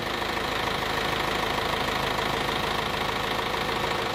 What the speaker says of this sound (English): I never rev up the diesel and then just shut it down.